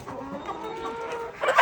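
A 90-day-old Spanish (Ispanka) fattening hen clucks softly up close in a low, steady murmur, ending in a brief, louder burst of rustling and clucking.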